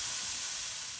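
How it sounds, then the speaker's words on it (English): Beef frying in a pan, giving a steady bright sizzle with a soft hiss, heard close and alone in a brief burst. "we're going to cook our beef in a pan"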